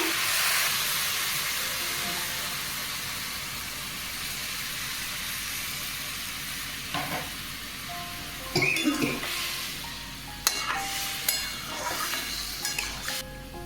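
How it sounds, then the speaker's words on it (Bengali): Water poured into a hot pan of sautéed vegetables, with drumstick pods, potato and garlic, sets off a broad steady hiss that eases off, followed by scattered clinks and knocks of utensils against the pan. "আমার কষানো হয়ে গেছে জল দিয়ে দিচ্ছি"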